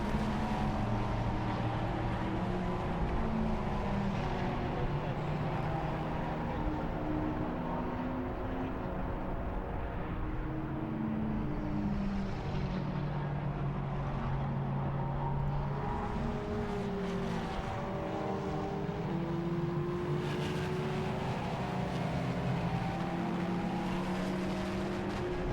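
Endurance race cars, a McLaren among them, at Silverstone drone steadily with several overlapping engine tones rising and falling. The roar stays continuous and moderately loud, with no voices heard.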